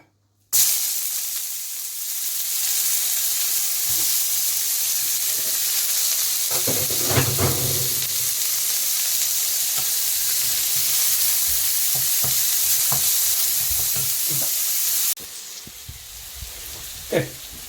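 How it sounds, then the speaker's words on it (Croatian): Steady, loud sizzling hiss of onion frying in hot oil, with occasional scraping and clinks of stirring throughout. "pošto je ulje ugrijano, sad stavit ćemo luk da se prži"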